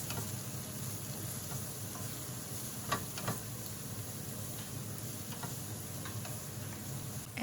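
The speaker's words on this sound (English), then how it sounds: "And stir fry for 2 minutes." Vegetables stir-fry in a hot pan with a steady, even sizzle, broken by occasional light ticks and scrapes from stirring.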